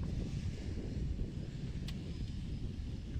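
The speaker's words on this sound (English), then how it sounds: "Getting a little windy out here." Steady low rumble of wind buffeting the microphone, loud and continuous throughout with no voices.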